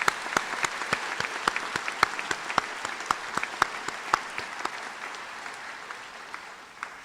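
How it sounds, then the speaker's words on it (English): Sparse clapping greets the EVMS Medical School Class of 2021 at a white coat ceremony, distinct individual claps in an uneven rhythm over a soft crowd background, tapering off toward the end. "I think I'd like for us all to applaud you one more time right now."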